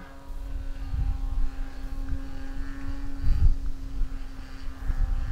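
Electric motor and propeller of an Avistar model airplane coming in to land with flaps up, a steady whining tone with a fluctuating buzz as it passes, fairly near and moderately loud against outdoor wind rumble.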